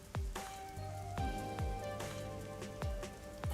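Rain falls in the neon-lit streets of the video game Rain Code, a soft steady patter of drops. Several sharp descending synthetic tones and sustained musical notes sound over it.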